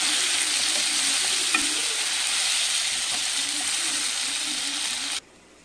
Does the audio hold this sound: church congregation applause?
no